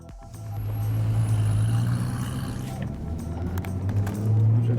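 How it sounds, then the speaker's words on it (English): A Koenigsegg CCR Evolution with 806 horsepower races a stock 485-horsepower Nissan GTR, heard as a steady, loud engine drone that holds near and constant throughout, with low rumble and no clear voices. "we're going to race the KOENIGSEGG CCR Evolution versus stock Nissan GTR"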